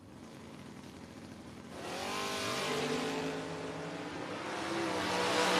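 Drag racing cars, a Nova and a Monza, roar off the line together, the engine noise swelling and rising in pitch as they accelerate away, loud and continuous with no talk.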